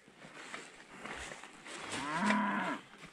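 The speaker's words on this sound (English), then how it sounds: "There's cows in this field." A cow moos loudly and close by in a field on the Isle of Portland, Dorset, a long drawn-out low call rising over faint outdoor background noise with no talk.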